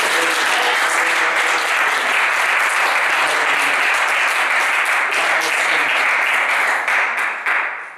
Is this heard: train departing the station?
no